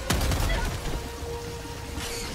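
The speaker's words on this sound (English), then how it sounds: "Give me one more quasar shot" A quasar cannon in the video game Helldivers 2 fires a single loud, abrupt shot that rolls into a rumbling decay, with a second fainter burst near the end.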